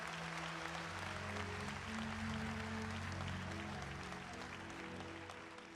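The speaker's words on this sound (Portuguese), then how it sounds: "Se é para o Senhor, aplaude com vontade." Church congregation applauding during a sermon, a dense, steady wash of clapping with faint musical tones underneath, fairly distant and slightly fading near the end.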